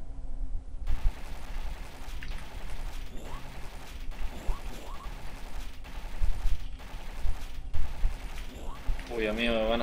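Metal Slug video game gunfire: a busy run of sharp shots, spaced irregularly over a constant wash of game sound, with a voice talking in places and a warbling burst near the end.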